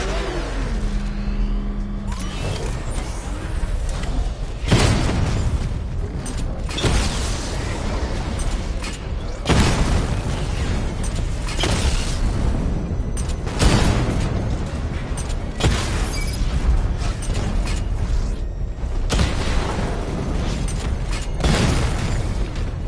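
Missile barrage explosions from the Batmobile's weapon in Batman Arkham Knight, a series of heavy booming blasts at irregular intervals over a constant engine rumble, loud and close.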